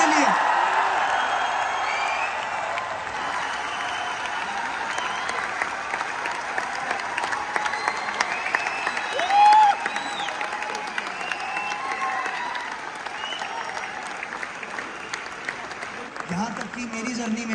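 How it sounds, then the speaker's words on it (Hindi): Loud sustained applause from an audience at a business success-testimony event, a dense roar of clapping with scattered cheers and whoops that holds steady for the whole stretch. "एक बार जोरदार ताली हो जाए रैप सर के लिए।"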